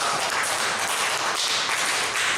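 Congregation in a Korean church service applauding: a dense, continuous wash of many hands clapping at once, loud and fairly close, heard alone without speech.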